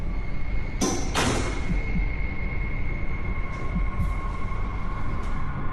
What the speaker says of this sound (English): as he looks up to find an outside door open, it clanks loudly